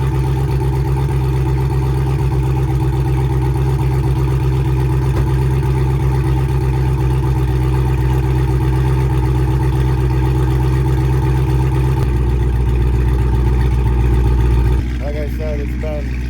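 Dodge Hellcat V8 engine idling close by with a loud, steady low rumble that holds throughout, shifting slightly near the end.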